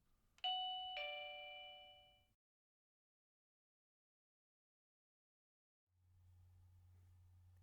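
An OHMKAT wireless doorbell chime rings a clear two-note ding-dong close up, the second tone ringing out and fading, followed by silence and then a low steady hum.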